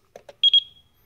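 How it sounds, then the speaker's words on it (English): An ESP32 biometric entry system sounds a short alarm: two soft low chirps followed by a quick pair of sharp, high electronic beeps, close and clear in an otherwise quiet room. "You can actually hear the alarm from inside the house."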